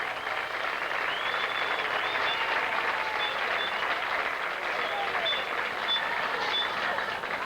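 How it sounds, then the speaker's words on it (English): Crowd applause in the stands at a 1997 Kansas high school football game between Thomas More Prep and Ellsworth, a steady, dense wash of clapping and cheering that holds evenly throughout. "And there's a fine round of applause."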